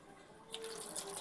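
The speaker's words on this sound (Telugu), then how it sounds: "ఇప్పుడు ఇందులోకి మనం కొంచెం వాటర్ యాడ్ చేద్దాం." Water is poured into a bowl of grapes, giving a brief, soft splashing trickle that starts partway through and runs quietly to the end, with no talking.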